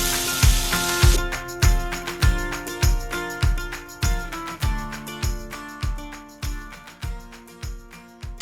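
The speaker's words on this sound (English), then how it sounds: "Then we're just gonna put this meat in there, and searing means we're only gonna cook the outside of the meat" Beef searing in a greasy pan for a family dinner, a loud frying sizzle with regular rhythmic bursts roughly every half second, like meat being pressed or turned, close and without talk.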